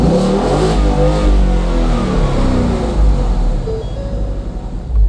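A 435-horsepower street car engine revs loud and close, a deep rumbling growl with repeated throttle blips, then it settles toward a lumpy idle near the end.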